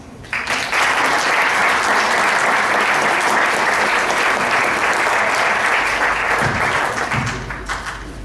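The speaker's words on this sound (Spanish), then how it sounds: "démosle también otro caluroso aplauso al maestro Javier Méndez Pérez" A conference audience at a talk on religious freedom gives warm, sustained applause: dense, loud clapping that swells in after a moment, holds steady, then thins toward the end.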